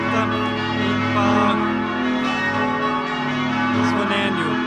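Church bells ring continuously with rich sustained overtones, loud and steady throughout, without any speech.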